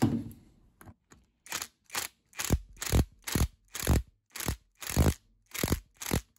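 A ratchet clicks in about ten evenly spaced bursts while tightening a bolt on a Miele Professional WS5073 washing machine during a motor bearing replacement. The bursts are close, crisp and rhythmic, with near silence between them.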